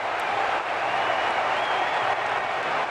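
Football stadium crowd at a Kaiserslautern versus Mainz match roaring after a goal, a dense, steady wall of cheering and applause that fills the space without a break.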